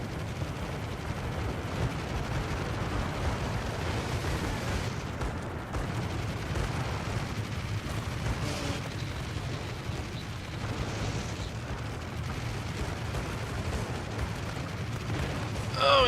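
Anti-aircraft guns on a ship in the naval video game World of Warships fire in focused bursts, a dense, continuous rumble of rapid shots and booms that stays loud for the whole stretch without talk.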